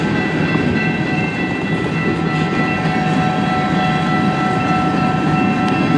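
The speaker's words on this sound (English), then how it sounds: "An 8-minute train so far." A long CN freight train rolls steadily past at Port Huron, Michigan, a continuous loud rumble of wagons with rail clatter and faint horn-like tones, on a cold day.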